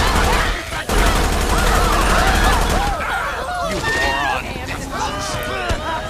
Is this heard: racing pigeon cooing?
no